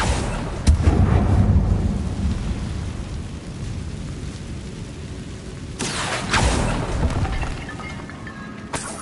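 Bombarda and Confringo explosion spells in Hogwarts Legacy on PS4 boom through a dense, continuous roar, with a brief crack early on and a heavier blast burst midway.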